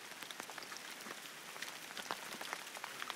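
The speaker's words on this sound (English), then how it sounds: "Oh, this hail is big." Hail falls in the Quinault Rainforest, giving a faint, dense patter of scattered sharp ticks and taps on leaves and ground, with no voices.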